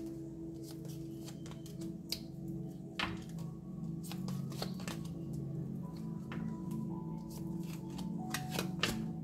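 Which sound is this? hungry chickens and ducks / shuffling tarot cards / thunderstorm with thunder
shuffling tarot cards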